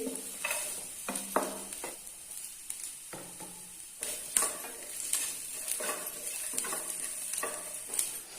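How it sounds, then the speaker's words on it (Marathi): Grated coconut goes into a pan of frying onion, ginger and garlic, giving a soft, steady sizzle. A spoon stirs and scrapes against the pan in quiet, irregular strokes, and no one speaks. "आलं लसूण टाकून घेते कांदा नरम झालाय आणि लालसर पण झालाय तर आता यामध्ये मी खोबरं टाकून घेते"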